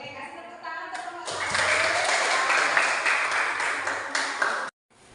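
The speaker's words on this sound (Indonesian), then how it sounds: "kasih tepuk tangan untuk kelompok" A primary-school class breaks into sustained applause for the first presentation group, a dense wash of many hands clapping that builds and holds for several seconds before stopping abruptly, with a teacher's voice briefly heard at the start.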